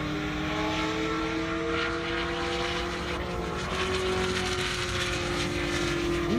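A Chevrolet ZL1 Camaro racing down an airstrip, its engine a loud continuous roar with pitch sweeps as it shifts through gears, heard from trackside throughout.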